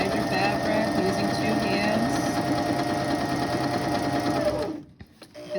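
A sewing machine runs steadily, stitching a satin ruffle up close with a continuous motor whir, then stops abruptly near the end, leaving a few soft handling sounds.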